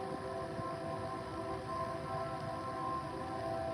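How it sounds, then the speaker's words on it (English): A distant train rolls past in the morning, a steady low rumble with a sustained horn-like tone held throughout, continuous and fairly faint under open outdoor ambience. "Uh-oh, here comes the morning train."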